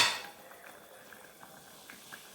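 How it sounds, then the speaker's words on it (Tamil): Soft bubbling of fish curry simmering in a pot, with faint scattered pops over a low steady background; no voices. "பாருங்க நல்லா கொதிச்சுக்கிட்டு இருக்கு"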